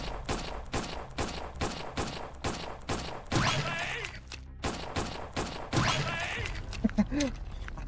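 Gunfire in the Mr. Krabs Tax Evasion video game, a steady run of sharp shots fired one after another at close range, with heavier bursts of impacts and clatter in the middle.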